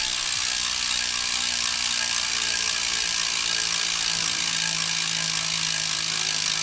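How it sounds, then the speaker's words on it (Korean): Freewheeling ratchet of a Cadex 42mm bicycle wheel hub with freshly serviced grease and bearings, a loud, dense, rapid buzzing click running steadily up close with no talking. "라쳇 소리를 들려드리겠습니다"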